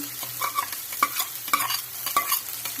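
Capsicum frying in oil for khichdi while being stirred, a steady close sizzle broken by sharp scraping spoon strokes against the pan roughly every half second.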